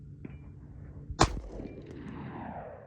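A single sharp gunshot from a 5.7x28 pistol firing an SS192 round at soft body armor, a crisp close crack with a short ringing tail fading into quiet room tone.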